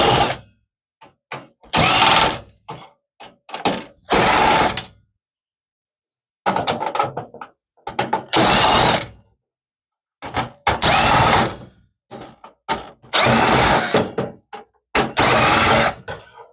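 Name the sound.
removing motherboard screws from Dell Precision T1700 workstation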